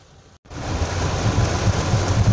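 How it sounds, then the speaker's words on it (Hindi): Steady, dense rushing noise of heavy rain during a road trip from Kolkata to Bhubaneswar, with a low rumble underneath, starting after a brief dropout and continuing loudly without letup. "जोरदार वर्षा"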